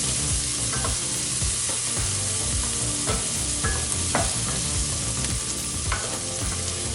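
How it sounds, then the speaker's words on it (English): Onions sautéing in butter in a frying pan give a steady close sizzle. A utensil stirs them now and then with soft scraping and clinks, and nobody speaks. "Just going to saute these nicely."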